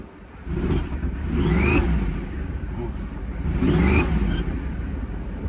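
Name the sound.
car engine revving, squeaking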